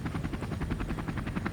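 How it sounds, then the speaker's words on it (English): Helicopters produce a steady, rapid rhythmic thudding of rotor blades that holds at a moderate level throughout, with no voices over it. "You could hear the helicopters coming"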